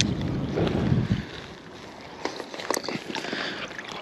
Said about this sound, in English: Hopefully that wind's not too bad.